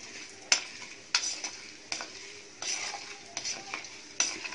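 Tempering spices crackle and sizzle in hot oil for okra tamarind curry, with a few sharp metallic taps of a spoon stirring the pan at irregular intervals.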